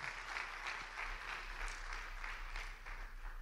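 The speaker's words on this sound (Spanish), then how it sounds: "un aplauso para ellos" Faint, steady applause from a church congregation, an even wash of clapping with soft swells and no voices.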